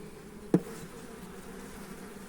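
A low, continuous hum of honeybees buzzing close by at a Voirnot hive, with one brief knock early on.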